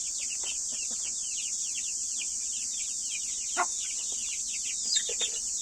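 Soft clucking from a hen and the thin peeping of turkey chicks under her comes through over a constant high insect buzz, fairly quiet and scattered.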